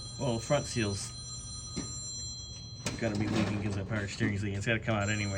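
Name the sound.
mobile phone ringing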